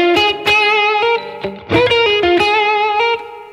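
An electric guitar plays a major pentatonic Chicago blues line with a warm, slightly overdriven vintage tone. Quick hammer-ons and plucked notes lead into longer sustained tones, played alone and up close.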